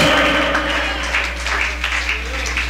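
A church congregation breaks into sustained applause during a sermon, a dense wash of clapping with a few voices mixed in and a low hum underneath.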